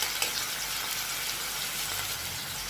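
Green peas, onion, tomato and garlic sizzle steadily in a hot pan as they are sautéed and stirred for a tomato-pea chutney, a continuous close frying hiss with no talking.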